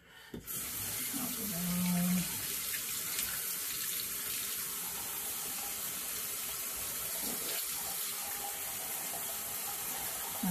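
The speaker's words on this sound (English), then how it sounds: "Now some of these you can pull apart, you know, and just wash them out real good" A tap runs steadily as fountain pen parts are rinsed under the water, a close, continuous splashing stream that starts abruptly and holds for the whole clip, with faint handling knocks.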